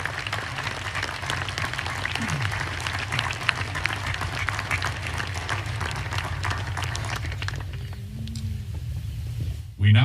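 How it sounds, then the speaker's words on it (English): A large crowd at an Army War College graduation ceremony applauds retiring faculty in a long, dense, even roar of claps over a low hum, then fades out near the end as the hall quiets. "please join me in a round of applause for our retiring faculty members"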